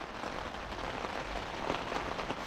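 Rain falls on a tent in a dense, even patter, close and steady throughout with no voices.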